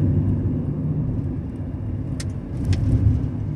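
A car on a morning drive gives a steady low interior engine and road rumble throughout, with a couple of brief faint high clicks, and no talking.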